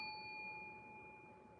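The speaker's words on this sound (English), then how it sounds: "we'll tap the bell" A small bell gets a single tap during a live tarot reading, giving a clear ringing chime whose bright, steady tone slowly fades over more than a second, with no voices.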